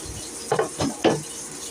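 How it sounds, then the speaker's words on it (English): Flour whisked into chipped beef gravy in a pan, heard as three brief scraping strokes of a whisk against the pan bottom over a low background hiss. "is going to mix flour up in it with a whisk"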